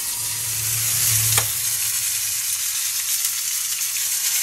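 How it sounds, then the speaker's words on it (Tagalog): Large fish head frying in hot oil for Filipino sinigang, a loud steady sizzle and crackle filling the kitchen, with a brief sharp splatter near the start and no voices. "Ayan, ipiprito ko muna."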